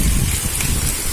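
Steady rain pours down during a storm, a dense continuous hiss of drops on surfaces filling the whole moment, close and fairly loud with no voices.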